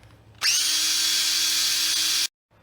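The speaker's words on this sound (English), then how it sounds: "We're using a 9/64 drill bit to get those out." A power drill with a 9/64 bit, drilling out rivets on a Miata soft top, spins up sharply and runs at a steady high whine for about two seconds, then cuts off abruptly into silence.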